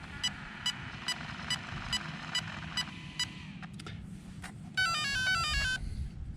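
A Traxxas X-MAXX RC basher with a 4-cell 5000 mAh battery and an 8s power system powers up its ESC. A run of short, evenly spaced beeps sounds over a steady background hum, then a rising and falling melodic tone sequence follows.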